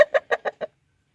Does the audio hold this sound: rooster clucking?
yes